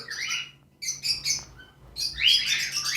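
A cockatiel breeder pair gives bright, repeated chirps in short bursts, close by and alone, with a longer rising call near the end.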